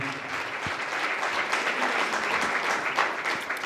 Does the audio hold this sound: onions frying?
no